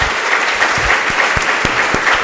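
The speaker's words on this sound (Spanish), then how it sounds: "Les pido por favor que le brindemos un fuerte aplauso." Audience applause at a product launch event, a dense, steady wash of clapping from a nearby crowd filling the space throughout.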